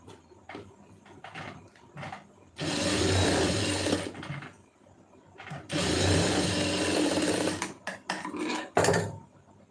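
A tailoring sewing machine runs in two sustained bursts of rapid stitching through fabric, with short mechanical clicks and handling noises between runs, close and loud.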